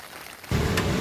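Rain falling at Mahabalipuram on the Coromandel coast, starting halfway through as a sudden steady, dense hiss that stays loud and even with no voices.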